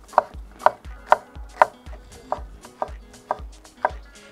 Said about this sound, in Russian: Лук полукольцами.